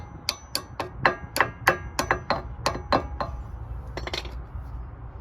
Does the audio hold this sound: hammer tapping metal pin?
yes